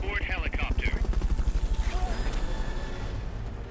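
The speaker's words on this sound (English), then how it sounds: "Fulton recovery subject confirmed onboard helicopter" Helicopter from the video game Metal Gear Solid: Peace Walker during a Fulton recovery, a steady rotor thump with rapid rhythmic chopping, loud and close, while a voice talks over the start.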